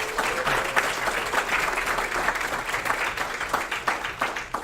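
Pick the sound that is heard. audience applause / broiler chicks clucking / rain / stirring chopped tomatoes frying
audience applause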